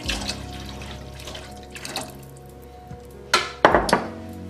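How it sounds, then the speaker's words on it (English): Water runs and splashes into a pot of vegetable broth for Italian wedding soup, with clinks and knocks of kitchen pans, fairly close and moderately quiet. "I'm going to add a little bit of water."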